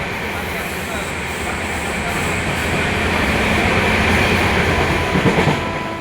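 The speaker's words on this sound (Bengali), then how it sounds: "সায়ন এক্সপ্রেসের গতি দেখুন একবার।" An express train runs at full speed, giving a continuous loud rushing rumble with rattling wheels that swells slightly toward the end, heard close by from on or beside the train.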